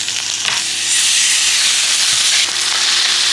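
A pork chop sears fat side down in butter in a very hot pan, giving a steady, close, bright sizzle with faint crackles throughout and no talking.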